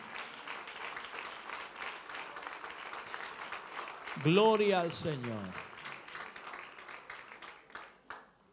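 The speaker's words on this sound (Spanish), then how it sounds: "Ese aplauso es de alabanza al Señor." A church congregation applauds in praise during a Sunday service, a steady wash of clapping running throughout while a voice rises over it in the middle.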